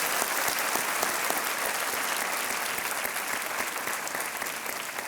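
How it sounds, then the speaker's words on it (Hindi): Steady, dense applause from a studio audience on a televised quiz show set, loud and sustained throughout with no speech over it. "तालियों के साथ इनका अभिनंदन किया जाए।"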